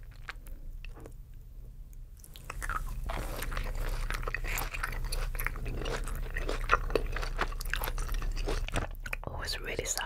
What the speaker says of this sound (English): Some chewy gummies. It's a little bit sour as well, which is nice.